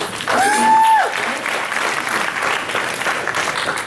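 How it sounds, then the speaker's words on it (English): An interview audience breaks into applause, a brief tone rising over the start, then steady clapping from the crowd continuing alone. "You guys can clap for that."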